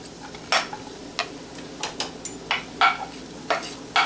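Chopped garlic sizzles in hot olive oil while a utensil scrapes and taps the pan in a loose, irregular rhythm, a quiet bed of frying hiss under the clicks.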